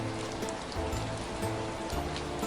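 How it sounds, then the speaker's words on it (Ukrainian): Rain tapping softly and steadily on window glass, a gentle continuous patter of drops heard alone with no voices. "а за вікном дощ тихенько стукав у скло"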